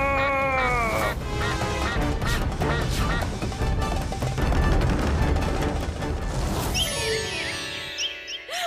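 Cartoon duck quacking amid a loud, busy soundtrack of music and crashing effects, the calls repeating steadily and sitting close in a dense mix.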